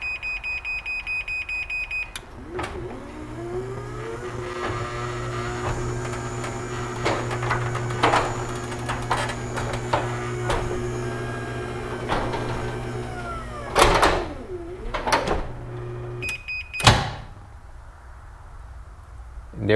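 A Chamberlain wall-mount garage door opener lowers the door: a series of electronic warning beeps gives way to a steady mechanical motor hum and rumble lasting several seconds, with a few sharp clunks and a final thud near the end.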